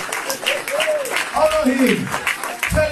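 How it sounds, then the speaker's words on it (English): A ceremonial audience gives a standing ovation in honour of Professor Wole Soyinka, with dense applause running continuously beneath a speaker's loud voice. "Keep clapping."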